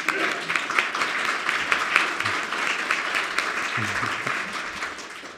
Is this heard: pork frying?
no